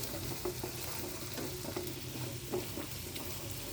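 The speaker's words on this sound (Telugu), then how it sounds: "ఒక్కసారి కలుపుకుందాం." Sesame powder stirred into capsicum besan fry in a pan: soft, continuous sizzling with faint scraping strokes of the spoon, quiet and without talk.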